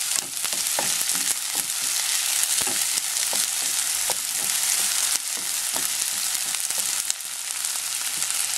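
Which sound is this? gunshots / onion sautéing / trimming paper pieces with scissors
onion sautéing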